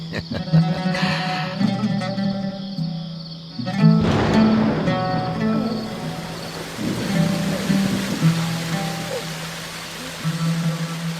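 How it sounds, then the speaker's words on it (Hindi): Rain falls in a steady broadband hiss that thickens in the second half, heard beneath sustained tonal music and low rumbling, with no talking. "ये बारिश भी तुम्हारे मुबारक कदमों की बरकत से है मेरे बच्चे।"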